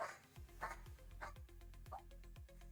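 Dogs bark in a quick repeated series of sharp woofs at regular intervals, fairly faint and a little distant, over a low steady hum.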